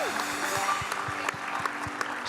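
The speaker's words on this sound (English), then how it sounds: "round of applause, everyone." Congregation applause for confirmands at a Kabbalat Shabbat service, a brief patter of clapping with a sustained musical tone underneath, moderately quiet.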